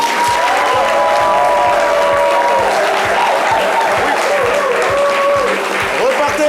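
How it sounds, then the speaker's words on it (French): A live show audience claps loudly and steadily for several seconds, a thick wash of applause with crowd voices and cheers layered over it. "Un peu les applaudir très très fort s'il vous plaît."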